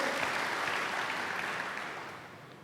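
A church congregation at an IFGF worship service applauds, a dense wash of clapping that starts full and gradually fades toward the end.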